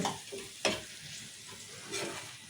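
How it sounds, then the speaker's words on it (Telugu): Cabbage curry with salt and turmeric is stirred in a pan, with a few sharp scraping strokes over a soft, steady sizzle. "ఇప్పుడు ఉప్పు పసుపు వేసాం కదా కలుపుకుంది ఒకసారి"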